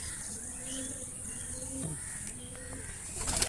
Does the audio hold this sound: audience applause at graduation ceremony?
no